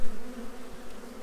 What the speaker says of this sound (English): Oh, there's a bee in there.